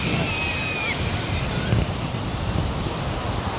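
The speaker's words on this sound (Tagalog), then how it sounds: "Hindi naman sobrang lakas yung alon." Gentle, calm sea waves at Tondaligan Blue Beach in Pangasinan wash in a continuous soft surf hiss, mixed with wind buffeting the microphone and no speech.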